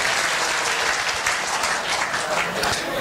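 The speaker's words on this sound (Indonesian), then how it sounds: "Tepuk tangan." An audience breaks into steady, dense applause at a health talk, with many hands clapping continuously at full volume and a faint hint of voices underneath.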